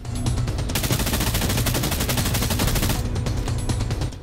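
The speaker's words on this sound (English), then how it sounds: "the Protector is a selective fire, air-cooled, delayed blowback operated submachine gun with a roller delayed bolt" Continuous rapid bursts from a Protector 9mm submachine gun in the game Arma 3, loud and close, with dense automatic fire and no talk.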